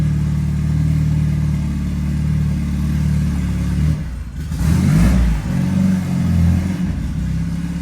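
A drift car engine running on a cold start tune, a loud, close, rumbling idle that dips, then surges in a sharp rev around the middle before settling back to a rough, steady drone.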